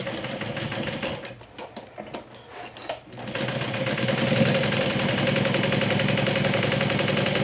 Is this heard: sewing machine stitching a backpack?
yes